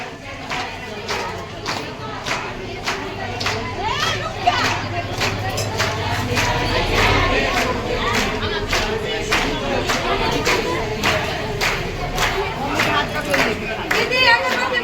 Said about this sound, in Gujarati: બહુ ભીડ છે આજે મહાદેવના મંદિરે